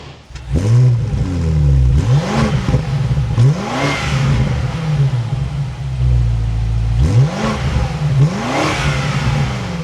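A 2026 BMW M5 fires up and revs hard, the engine rising and falling in repeated sharp blips over a loud idle, close and clear with no voices.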